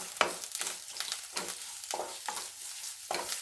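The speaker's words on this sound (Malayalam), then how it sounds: "നാളികേരം ഇട്ട് കൊടുത്ത് നന്നായി ഒന്ന് ഇളക്കി നാളികേരം നല്ല ചുമന്ന കളറാവുന്നത് വരെ ഇളക്കി കൊടുക്കണം" Grated coconut is stirred and fried in a pan for a jackfruit erissery, with rhythmic scraping strokes about every half second over a low sizzle, quiet and close, with no voices.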